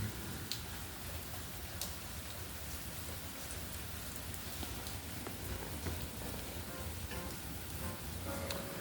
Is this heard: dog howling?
no